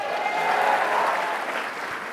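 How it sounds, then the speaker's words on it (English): A crowd at a political gathering claps steadily for Sunshine on the Porch, a dense, even wash of applause that swells slightly and then eases off. "how about a big round of applause for Sunshine on the Porch?"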